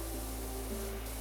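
Pressure washer spray in the video game PowerWash Simulator, a steady broadband hiss with a faint mechanical hum, continuous and fairly close, with no talking over it.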